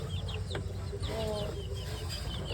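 Native chickens cluck and chirp in a yard, several short calls coming close together over a steady low background hum.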